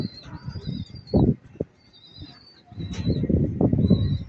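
Pigeons' wings flap in bursts amid gusty strong wind, with a few faint bird calls and cooing, no talking.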